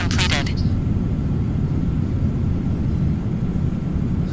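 A Sky Courier's engine drones steadily after takeoff in a flight simulator game, a constant low hum that stays even throughout, with a voice speaking at the very start.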